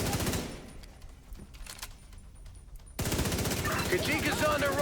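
Gunfire in a video game, rattling bursts that run quieter through the first part and then become loud and dense, with a voice talking over the shooting.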